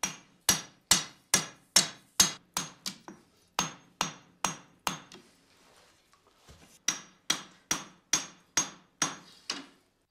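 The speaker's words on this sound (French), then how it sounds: "Jour après jour, Gassan martèle la barre d'acier." A steel bar is hammered to forge a katana blade: sharp, ringing metal blows land in an even rhythm, about a dozen in a run, then a short pause with faint clinks before another steady series of strikes.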